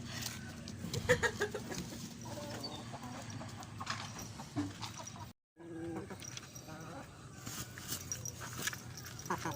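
A thick-bodied breeding hen clucks in a backyard fowl yard, with other birds and a dog audible in the busy background noise and a brief drop to silence partway through.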